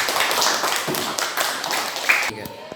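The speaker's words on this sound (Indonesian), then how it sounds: "Tepuk tangan untuk Rian." Classroom students clap for a classmate named Rian: a brisk patter of hand claps from a small group, steady and fairly close, then stopping abruptly near the end.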